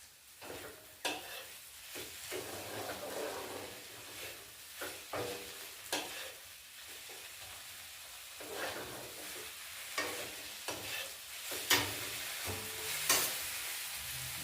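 An oats dish frying in a pan while being stirred, with soft sizzling under repeated scraping and turning strokes of a spatula at an irregular rhythm, heard close with no talking.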